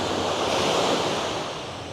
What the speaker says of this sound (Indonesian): Suara deburan ombak.